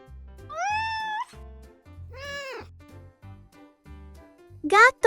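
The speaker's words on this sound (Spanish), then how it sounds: "Este es el sonido que hace un gato." A cat meowing three times, clear close tonal calls spaced a second or two apart, the last one sharp and loud, over soft low thumping in the background.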